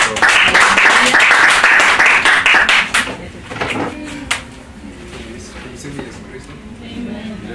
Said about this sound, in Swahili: Pigeni Mr. Robin makofi